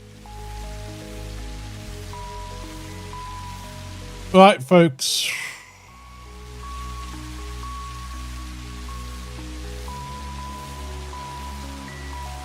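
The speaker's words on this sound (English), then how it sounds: "Might have to wait for this rain to finish." Rain falls in the video game Satisfactory, a steady soft hiss under sustained tonal game music, with someone briefly speaking in the middle.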